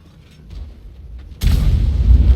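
An M44 self-propelled artillery gun fires in World of Tanks: quiet low rumble, then one sudden heavy boom that rolls on loudly to the end.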